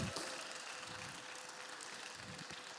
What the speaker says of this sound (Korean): 후보자들께서 등단할 때 뜨거운 박수 부탁드리겠습니다